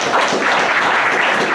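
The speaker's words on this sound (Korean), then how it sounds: "격려의 박수 한번 더 보내주시죠" A room of people at a clan association general meeting applauds. Dense, even clapping holds at a loud level through the short stretch, with no voices over it.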